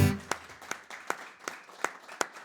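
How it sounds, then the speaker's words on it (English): An audience claps for a songwriter and storyteller's performance, the bursts of clapping sharp and steady in a loose, regular rhythm, fairly close and moderately loud, with no talking over them. "Very kind people you are to clap for such things."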